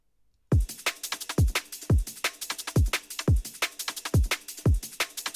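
Drum loop from a sampled song, run through a group of effects that leave it more controlled, begins after a brief silence: steady booming kicks and bright snare and hat hits in a tight repeating groove, loud and alone.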